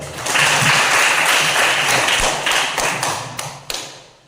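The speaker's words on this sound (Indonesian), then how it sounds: "Teman kalian tepuk tangan dulu." Students applauding in a classroom, a burst of many hands clapping that swells quickly, holds loud and close, then thins into scattered final claps.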